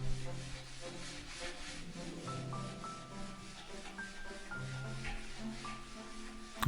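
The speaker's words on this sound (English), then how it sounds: "So the final thing to do was to give it all just a wipe down to remove any excess oil." A cloth rubs over a pallet wood crate to wipe off excess oil, giving quiet, repeated rubbing strokes close by, with a sharper knock at the very end.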